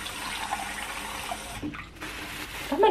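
Water runs steadily into a container for a prank, a continuous splashing fill at close range with a brief pause and change in tone near the end.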